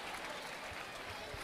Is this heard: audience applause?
yes